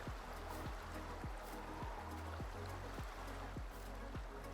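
Rushing water flows steadily in a Farming Simulator 19 map, a continuous soft stream-like wash with a faint, regular low thumping beneath it.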